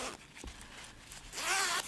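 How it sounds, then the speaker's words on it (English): A fat clothing zipper handled for sewing a lined pouch: a faint rub and scratch early on, then a loud, close ratcheting zip pulled in one long stroke near the end, with no talk. "This is a fat zipper."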